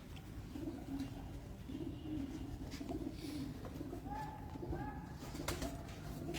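Soft, low pigeon coos from breeding pigeons in Multan repeat in a steady rolling rhythm, with a few brief chirps from other birds over a constant background hum.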